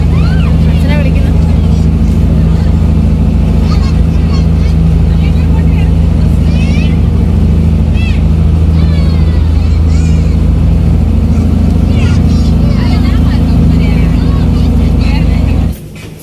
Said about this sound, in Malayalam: ബോട്ട് സ്റ്റാർട്ടായി കേട്ടോ.